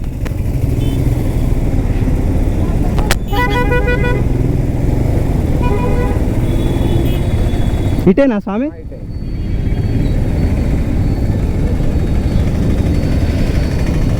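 Busy daytime street traffic in Madurai, a steady roar of passing cars and motorbikes with repeated horn toots, a burst of rapid honks near the middle and a sharper horn blast later, while people talk briefly nearby.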